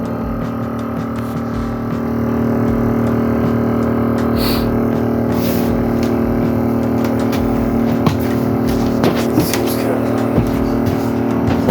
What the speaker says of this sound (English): Pump is going.